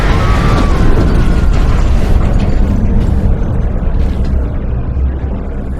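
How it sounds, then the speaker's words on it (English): A fluid overload explosion in the Mars: War Logs video game: a loud, dense rumbling blast that keeps roaring for several seconds before easing slightly. "Only a fluid overload can make that kind of noise."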